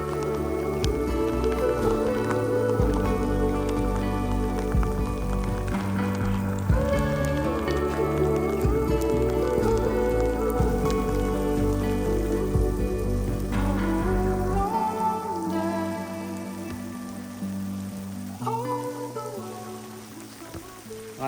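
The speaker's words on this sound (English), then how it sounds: "let's go back to the refuge of the church and wait out this hail" Hail falls during a mountain storm in the Dolomites near Tre Cime di Lavaredo, a dense, steady patter that carries on without a break for the whole stretch, with no voices.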